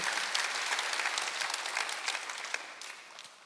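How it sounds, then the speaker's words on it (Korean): A congregation claps together during a Sunday worship service at a church, giving sustained, fairly soft applause with a slight rhythmic pulse that fades gradually. "박수하세요."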